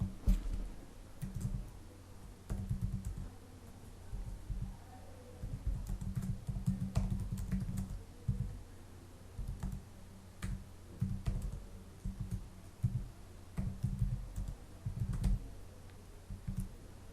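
Someone types text on a computer keyboard, a steady run of close, clicking keystrokes in irregular bursts with short pauses, over faint background hum and no talking.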